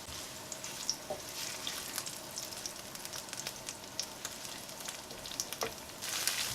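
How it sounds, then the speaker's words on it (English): Curry paste for lobster korma fries in a pan with a soft, continuous sizzle and occasional small pops and stirring scrapes, quiet and close. "Fry it for 2 minutes"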